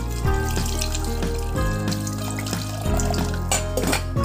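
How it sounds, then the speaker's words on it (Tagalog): Water runs and splashes into a metal pot holding salted chicken gizzards for boiling, with occasional clanks of the pot shifting, close up and steady for a few seconds. "Maglagay tayo ng tubig."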